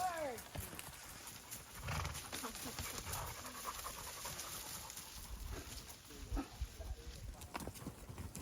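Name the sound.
working dogs panting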